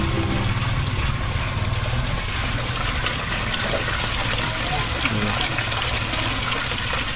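Steady, loud rush of water pouring from a hose into a fish pond, a constant gushing close by, with a low droning hum beneath it.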